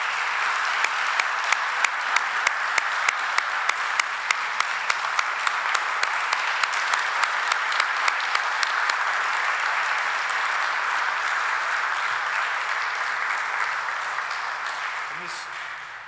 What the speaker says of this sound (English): A big round of applause for Kayla.